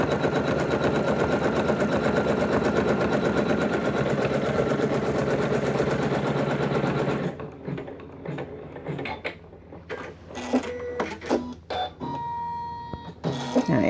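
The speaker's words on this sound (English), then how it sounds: "I'm babysitting it as it does this first row of stitches" Embroidery machine stitching through quilt top fabric, wadding and backing fabric, a steady fast mechanical whir for about seven seconds, then stopping, followed by scattered clicks and handling noises.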